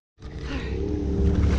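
A side-by-side UTV on a slick Georgia clay trail ride at Durhamtown pushes through deep water with its CVT exhaust submerged, its engine rising into a loud, low, steady roar up close.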